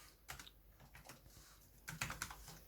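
Quiet, close typing of code on a computer keyboard for a Python lesson, scattered key clicks with a brief flurry of quick strokes near the end, no talking.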